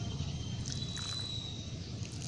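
Water poured from a can or pipe onto newly planted onion seedlings in garden soil, a steady soft trickle and splash throughout, close by and fairly quiet, with no talking.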